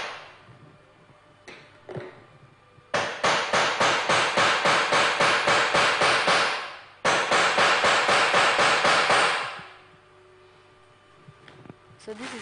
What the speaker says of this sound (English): Then I'll bring out my hammer.